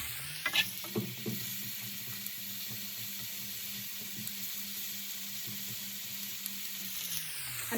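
Vegetables cooking in olive oil in a pan, a soft continuous sizzle with a few light stirring clicks, quiet and steady throughout.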